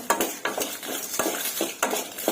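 Dried red chilies stirred in a frying pan make a quick run of rhythmic scraping and clinking from the spoon against the pan, set over a faint sizzle.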